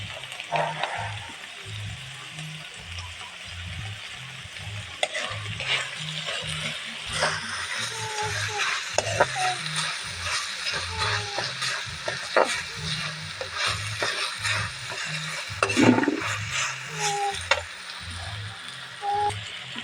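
Ginisang tugi simmers in a pan after oyster sauce is added, a faint, steady sizzle with soft, regular clicking and scraping as it cooks.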